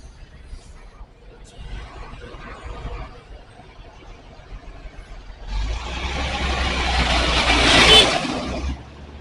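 Bus and traffic on a congested road near Limbangan, Garut: a low engine rumble under talk that swells into a loud, close roar of a passing heavy vehicle for the last few seconds.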